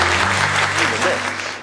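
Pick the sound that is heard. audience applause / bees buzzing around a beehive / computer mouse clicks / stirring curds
audience applause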